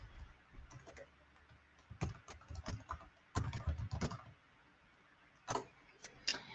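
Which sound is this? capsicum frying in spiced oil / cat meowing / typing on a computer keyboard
typing on a computer keyboard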